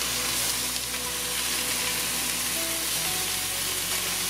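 Stuffed chicken breasts, just flipped, frying in a pan with a dense, loud, continuous sizzle and a low background hum that shifts slightly partway through; close up with no talking.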